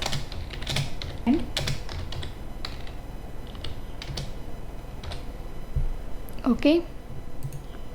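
Python code typed on a computer keyboard, bursts of close key clicks and taps with pauses, alongside someone speaking briefly.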